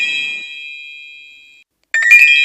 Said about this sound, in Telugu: ఒక్క నిమిషం ఉండు. నా భార్య రాజీ ఫోన్ చేసింది.